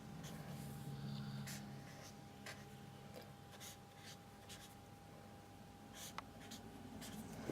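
Pencil or pen scratching out a rough dress sketch on paper, soft intermittent strokes close by against a faint steady hum, with no talking.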